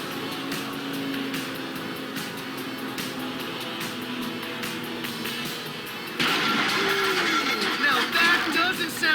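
A boat engine hums in a video game boat mission, steady at first, then louder and rougher as it revs near the end, with game sounds around it.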